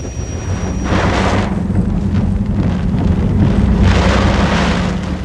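Hurricane Andrew's winds in Miami roaring and buffeting, a loud, continuous rumble with two strong gusts swelling and easing, close and dominant with no voices.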